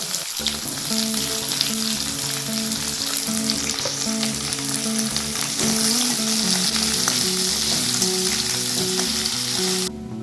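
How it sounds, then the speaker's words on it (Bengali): Sliced onions added to hot oil with cinnamon, cumin and other whole spices, frying with a loud, steady sizzle throughout, close to the pan, occasional stirring scrapes, no talking. "ফোড়নটা ভালো ভাজা হয়ে গেছে এবার পেঁয়াজটাকে আমি দিয়ে দিলাম"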